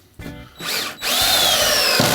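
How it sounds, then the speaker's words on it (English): A power drill drives screws into wooden battens, giving a close, loud whine that rises in pitch and holds steady as the motor spins up, with no talking. "So put 3 screws in each batten."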